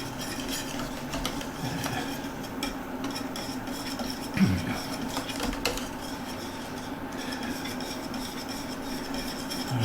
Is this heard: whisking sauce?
yes